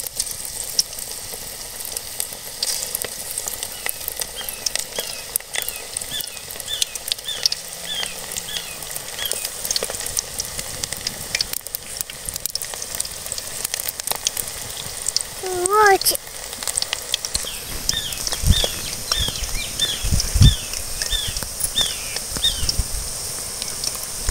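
Cauliflower pieces for crispy cauliflower 65 frying in hot oil, a dense continuous sizzle and spatter close by, with a few clinks and bird chirps in the background.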